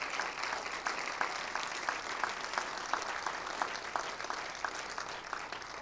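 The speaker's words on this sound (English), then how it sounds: "please, a round of applause for everybody who made tonight possible." Steady applause from an audience at an evening celebration, many hands clapping evenly throughout at moderate distance.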